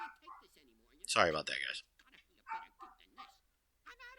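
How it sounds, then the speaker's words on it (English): Dogs bark outside in a short, loud burst of barks and yips, with a person talking before and after. "apparently the dogs are barking about kids outside"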